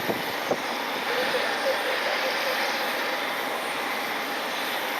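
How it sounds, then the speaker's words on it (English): Alaska Airlines Boeing 737 pushing back from the gate at night at Cleveland Hopkins, a steady broadband jet engine roar and whine held at a constant level, with a couple of faint clicks near the start. "Alaska 737 is pushing back."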